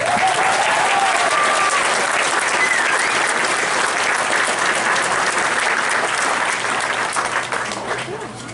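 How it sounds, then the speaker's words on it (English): Sustained applause from a crowd at a 2018 high school graduation ceremony, honoring the jazz band, steady and full for about eight seconds before tapering slightly at the end. "We give a big round of applause to the Bonners Ferry High School Band."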